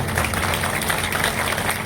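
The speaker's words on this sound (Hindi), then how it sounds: "जोरदार ताली बजा दीजिए" A large crowd at a political rally in Ghazipur claps together, a dense continuous wash of applause at close range with no pauses.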